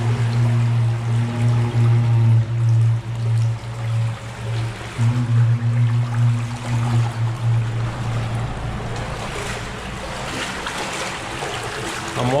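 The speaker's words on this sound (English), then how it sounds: "You hear the water?" Creek water rushing steadily through a highway tunnel, a continuous loud wash with a low droning rumble that echoes, running unbroken and alone.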